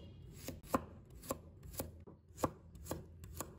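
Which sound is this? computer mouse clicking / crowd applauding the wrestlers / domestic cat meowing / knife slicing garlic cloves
knife slicing garlic cloves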